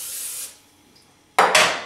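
Cooking spray hisses onto a pan around chicken in two quick close bursts after a short opening spray and a pause.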